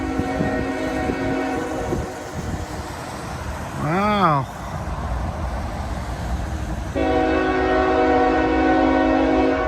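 A CSX heritage B&O diesel locomotive rumbles past slowly with a loud horn blast partway through, engine drone swelling nearby; a person exclaims briefly.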